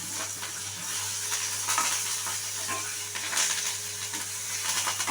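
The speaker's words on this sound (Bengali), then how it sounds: "কারি পাতাটা অ্যাড করে দিচ্ছি" Curry leaves dropped into hot oil for a dal tempering, producing a steady close hiss and sizzle with scattered crackles and a few light utensil taps, no one speaking.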